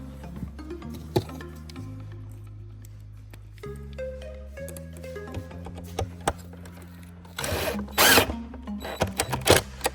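Screws being driven into the plastic pillars of a Clearview Original towing mirror shell, a steady mechanical whir with ratcheting clicks and a few sharp knocks, growing louder and busier toward the end.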